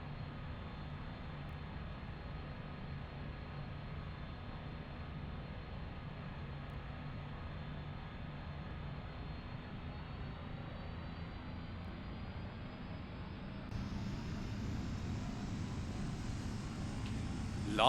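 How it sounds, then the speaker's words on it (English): A Cessna 208B Super Cargomaster turboprop taxis in the X-Plane 11 flight simulator, a steady droning engine hum holding level throughout with no speech, rising slightly louder near the end. "FedEx 811s taxiing to runway 33 for departure."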